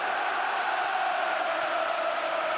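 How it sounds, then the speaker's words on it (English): A huge stadium crowd of 50,000 Newcastle fans roars after an equalising goal against Arsenal, a dense, sustained wall of cheering that stays loud and unbroken. "Geordies have virtually lifted the roof off this place"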